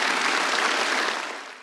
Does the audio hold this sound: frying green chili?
no